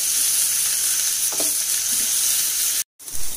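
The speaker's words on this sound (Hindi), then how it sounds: "और अब इसको हम भून लेंगे।" Grated onion frying in a pan, a loud, even hiss of sizzling oil with a faint stir near the middle and a brief dropout before the frying resumes.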